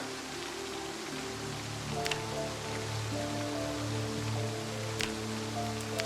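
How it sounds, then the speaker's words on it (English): Steady rain pattering on a surface in the video game Project Zomboid, with a low tonal hum and soft sustained notes underneath and a few faint clicks. "I just know it's rainy and cold."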